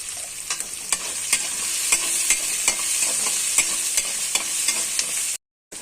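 Chopped tomatoes frying in a pan for puffed rice upma give a steady close sizzle, with regular soft stirring scrapes throughout and no talking.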